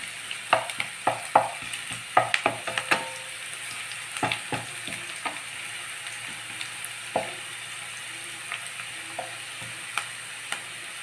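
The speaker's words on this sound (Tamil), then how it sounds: "நல்லா பொரியுது வெங்காயம்." Onions frying in oil in a pan, with sharp scattered clicks and utensil taps over a steady low sizzle, busier early and thinning out later; no voices.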